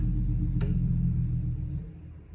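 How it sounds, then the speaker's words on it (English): A loud truck drives past on a nearby road, a heavy low rumble that holds steady and then fades as it moves away, with a brief higher squeak early on and no voices. "That truck is quite loud."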